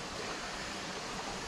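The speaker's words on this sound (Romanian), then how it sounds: "Ați văzut cum arată cascada asta?" A natural roadside waterfall cascade pours in a steady, faint, distant hiss, one of several falls together in an open outdoor setting.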